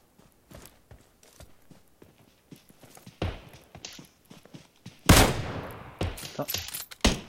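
Gunfire in the mobile battle royale game PUBG Mobile: scattered footsteps, then sharp bursts of rapid automatic shots with echoing cracks, loud and near, with sporadic single shots in between.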